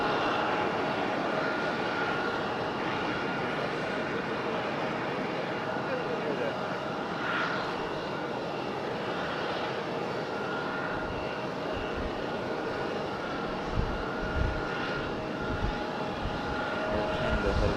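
An Air Canada airliner going around at Raleigh-Durham International Airport gives a steady, distant engine roar that stays level throughout, with a voice talking over it.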